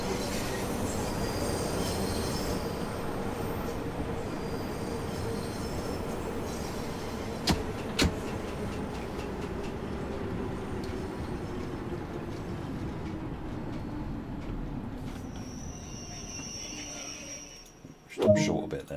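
A 72 stock subway train in a train simulator game runs along the track with steady rolling rumble and rail clatter, occasional sharp clicks and squeals, fading toward the end before a brief louder clunk.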